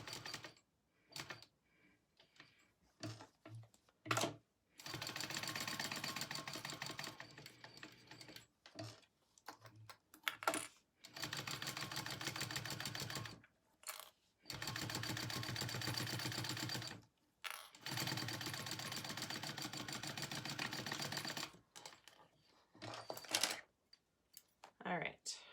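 A sewing machine top stitches a wallet beside the card slots through Peltex-stiffened layers, running in several steady multi-second bursts separated by short pauses and small clicks.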